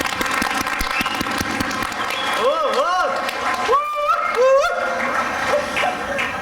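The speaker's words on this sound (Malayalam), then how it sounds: "ഒരു അടിപൊളി കയ്യടി അദ്ദേഹത്തിന് കൊടുക്കണം." Applause from a festival crowd at an Onam celebration greets a Mahabali performer, steady clapping running through the whole stretch while a voice and other stage sounds rise over it midway.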